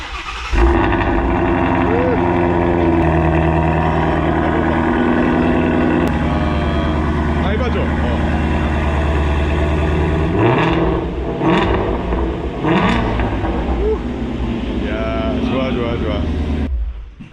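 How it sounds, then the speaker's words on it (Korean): A powerful 526-horsepower car engine idles loudly and revs up in several bursts, with people talking over the rumble. "엔진 소리가 아주 예술이에요"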